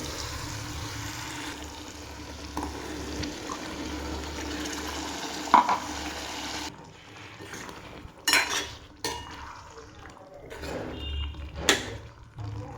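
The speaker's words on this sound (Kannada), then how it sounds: "ಈಗ ಸ್ವಲ್ಪ ಇದನ್ನು ಫ್ರೈ ಮಾಡ್ಕೊರಿ" Ground masala fries in a pan for a brinjal palya: a steady hiss fills the first half, then a spatula scrapes and clinks against the metal in uneven strokes.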